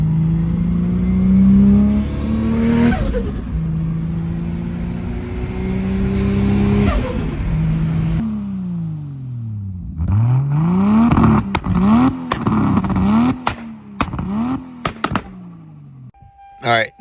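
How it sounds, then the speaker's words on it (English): Tuned right-hand-drive Toyota Supra 2JZ engine revving hard while driving, with loud repeated rises and falls in pitch as it accelerates and shifts, followed by sharp pops and bangs under faint talk. "Sounds like a Supra now."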